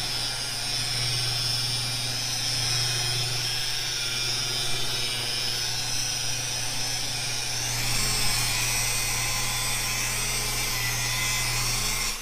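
A power buffer whirs steadily as 3M rubbing compound is worked into a small spot of fresh quick-dry automotive clear coat, a continuous close hum with a slight shift in tone partway through.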